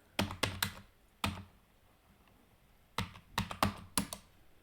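Quick keystrokes on a computer keyboard while new values are entered into a spreadsheet, short clusters of crisp taps separated by pauses, close and clear with no voice.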